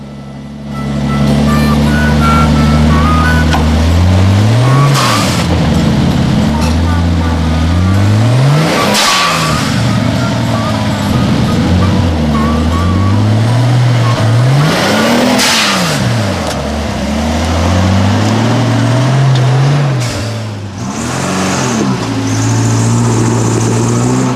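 A 4WD climbs a rocky track, engine loud and close throughout, revving in repeated rising and falling surges as it crawls over rocks, with no talk.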